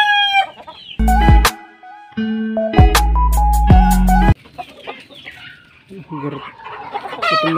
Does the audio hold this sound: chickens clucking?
yes